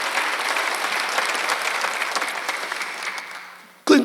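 Church congregation applauding during a Sunday worship service, steady dense clapping for about four seconds that cuts off abruptly near the end, followed by a brief louder burst.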